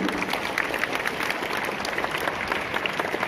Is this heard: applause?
yes